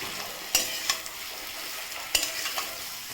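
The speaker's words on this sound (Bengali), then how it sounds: "বন্ধুরা এখন দেখো একটু সবজিটাকে নাড়িয়ে নিয়েছি" Sliced ridge gourd and potatoes sizzle loudly in a pan while a spatula scrapes and knocks against the metal in a few sharp strokes, two of them especially distinct.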